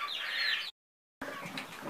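Small chicks peep in short, high, chirping bursts at close range. A brief silent gap breaks the peeping before it resumes more faintly, mixed with light rustling.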